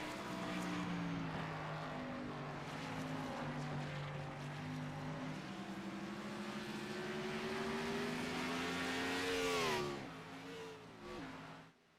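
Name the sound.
race cars at Watkins Glen, from a racing video game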